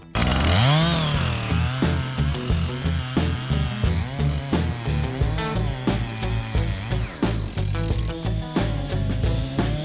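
A chainsaw revs up and roars steadily, its engine pulsing as it bites repeatedly into a cherry log, loud and close.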